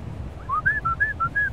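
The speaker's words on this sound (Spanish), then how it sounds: "Mira, aquí todas las aves" A bird by the sea gives a string of clear whistled notes, rising then alternating in a steady rhythm, moderately close over faint background noise.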